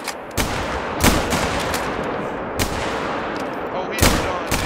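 Four sharp gunshots spaced irregularly over steady outdoor ambience while hunting turkey with a cheap gun in the video game Hunter: Call of the Wild.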